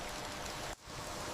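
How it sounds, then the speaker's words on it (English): Steady rain falling in a forest, a dense close hiss of drops that drops out for a moment and then returns. "rain becomes a force of nature."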